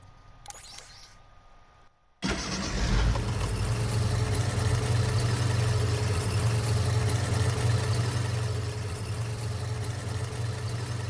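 A vehicle engine in the Dreams video game starts after a brief quiet moment, then holds a steady, low droning hum with little change in pitch that carries on to the end.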